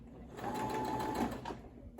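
A sewing machine runs at slow speed stitching a fabric ruffle, giving a close, steady mechanical whir and hum for about two seconds.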